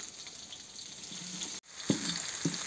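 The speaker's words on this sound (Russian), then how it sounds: "И сразу же загружаем перец и чеснок. И все это обжариваем буквально несколько секунд." Peppers and garlic fry in hot oil in a cauldron over a campfire, a steady close sizzle with a brief cut and a couple of sharp stirring scrapes near the end.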